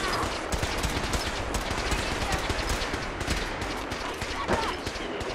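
Enemies firing at the player in Fallout 4, a relentless stream of rapid, overlapping gunshots with dense machine-gun bursts, loud and continuous with no letup.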